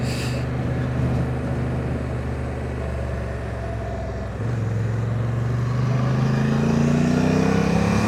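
A Honda Africa Twin motorcycle's big engine drones steadily while riding in Sport 2 mode with a twitchy throttle, under constant wind rush, its revs climbing toward the end.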